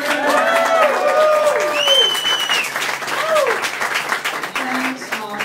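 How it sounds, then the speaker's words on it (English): At a boat launch party for a teen book, a crowd applauds loudly and cheers, with whoops and shouted voices rising over steady clapping close by. "A round of applause."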